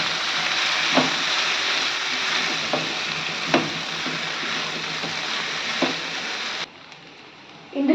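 Soaked sago for upma fries on a slow flame with a steady, hissing sizzle broken by several spoon scrapes, before the sizzle suddenly drops quieter near the end.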